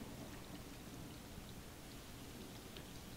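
Rain in the video game Stray, falling steadily as a dense, even hiss with faint scattered drops at a low, constant level, with no voices over it.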